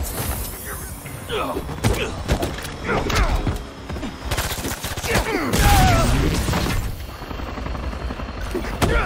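Gunfire in the superhero action video game Marvel's Spider-Man 2: repeated sharp shots and bursts crackle through a chaotic battle mix, with shouting voices over them.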